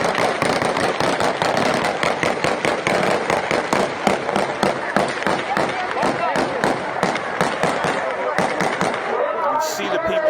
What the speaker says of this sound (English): And what you're hearing there is gunfire.